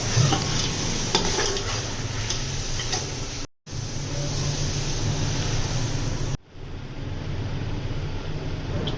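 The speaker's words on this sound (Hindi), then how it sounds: "चिकन डाल के इनको भून लें" Chicken frying in a pan with spice paste for biryani korma, a dense, loud sizzle that runs steadily and cuts out briefly twice, close up with no talking.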